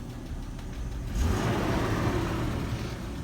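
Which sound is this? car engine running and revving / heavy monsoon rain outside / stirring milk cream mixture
car engine running and revving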